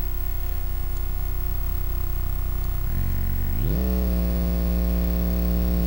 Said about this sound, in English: we're now putting the sine wave of oscillator A through the wavetable of oscillator B